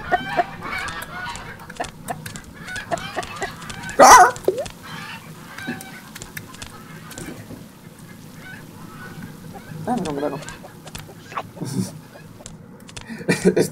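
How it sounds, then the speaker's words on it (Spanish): A chicken in an Oculus Rift VR game clucks and squawks in repeated short bursts, one loud sharp call standing out, with someone speaking Spanish between the calls. "una gallina."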